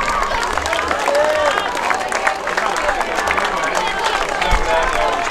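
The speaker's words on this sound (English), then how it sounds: "Please give them an enormous round of applause" Crowd applause at the 2023 NWC under-13s rugby league cup final between Ince Rose Bridge and Woolston Rovers Greens, sustained and dense clapping with cheering from spectators, steady throughout and loud.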